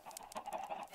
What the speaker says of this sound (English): I can't kill that chicken.